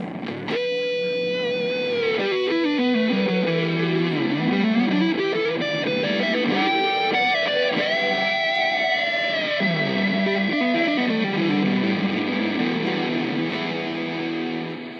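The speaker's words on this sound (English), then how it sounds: "Electro Harmonics demoed their latest reverb pedal. In this clip, a reverse reverb and a big muff." An Electro-Harmonix reverb pedal set to reverse reverb, paired with a Big Muff fuzz, carries a distorted electric guitar through sustained, swelling notes and sliding bends, with a dense wash that fills the whole passage.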